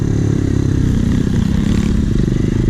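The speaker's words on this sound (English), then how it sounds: "Freaking Amazon dirt bikes are legit." Engine of an Amazon-bought dirt bike running steadily close by, a loud, buzzy, continuous motor drone with no pauses.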